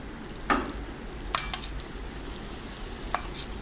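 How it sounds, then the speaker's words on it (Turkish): Flour is stirred and roasted in melted butter in a pan for béchamel, giving a soft continuous sizzle broken by a few scraping stirs of a utensil, close and fairly quiet, with no speech. "Evet tereyağımı erittim. Üzerine unumu ilave ediyorum."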